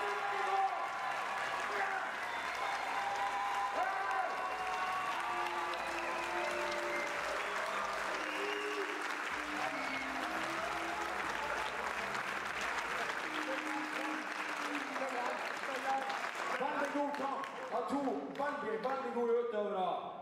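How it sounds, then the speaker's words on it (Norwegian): Audience applause at a Norwegian amateur MMA bout, sustained and steady for the full stretch, with crowd noise and a voice rising near the end. "enda en applaus."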